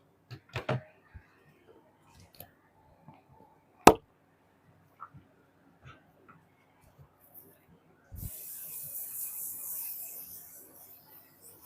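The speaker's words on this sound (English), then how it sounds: "I'm going to go in with the One Size Till Dawn aerosol spray." A steady hissing spray of One Size Till Dawn aerosol setting spray bursts on near the end and runs for a few seconds after scattered soft taps and clicks.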